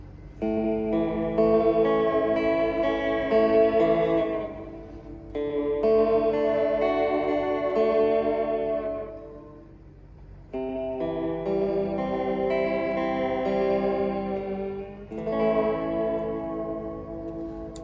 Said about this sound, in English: That is the sounds of a 15 IPS studio tap echo unit.